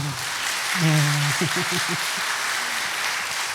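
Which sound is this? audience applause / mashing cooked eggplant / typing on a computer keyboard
audience applause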